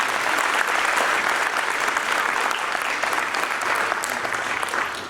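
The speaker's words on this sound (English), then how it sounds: "if we could give them a round of applause" Sustained applause from a school band concert audience at Newark, a dense, steady wash of many hands clapping at even loudness for about five seconds with no voices standing out.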